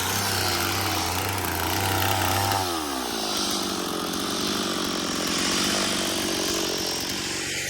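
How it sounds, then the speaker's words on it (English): A chainsaw cutting saddle notches into logs runs loud and close, holding a steady idle before revving up into a sustained, rasping cut that carries on without talking. "Scott comes with the chainsaw and chainsaws them out so they look like this."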